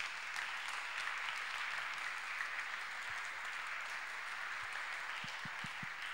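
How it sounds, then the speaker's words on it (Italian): A concert audience applauds musicians after a performance, a steady, fairly quiet wash of clapping heard from a distance, with a few sharper low knocks near the end. "meritano ancora un grande applauso"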